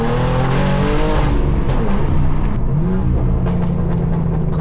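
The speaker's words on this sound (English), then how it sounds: "Huracan sounds so good." A loud Lamborghini Huracan engine roars and accelerates up through the revs close by, with a sharp shift partway through and exhaust crackles as the pitch climbs.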